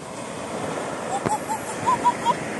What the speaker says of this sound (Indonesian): Ombaknya nih loh, ombak.